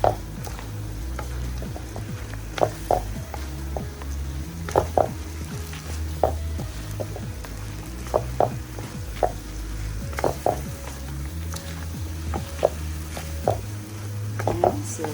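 Peppers frying in a pan for a bitter deer soup, sizzling softly and steadily while a utensil clicks and taps against the pan now and then.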